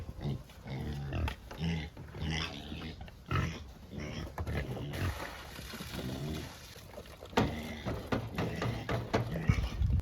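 Pigs being fed in a trailer on a homestead grunt and snort close by in irregular bursts, with feed and equipment clatter and rustling mixed in.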